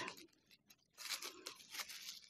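A plastic bag crinkles and rustles as it is pulled over a small pot of freshly sown Goodwin tarragon seed, with bursts of crisp, close rustling that swell louder in the second half.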